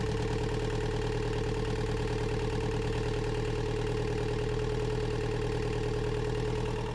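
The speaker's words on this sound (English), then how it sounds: "We just ran the engine, everything's looking good." A sailboat's inboard engine idles steadily after maintenance, a close, loud and continuous mechanical rumble with a regular low thumping pulse and no voices over it.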